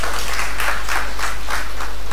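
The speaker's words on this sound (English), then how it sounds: "Can we give him another round of applause?" An audience at a medical conference on physical activity, diet and diabetes applauds after a presentation, with steady, dense clapping throughout.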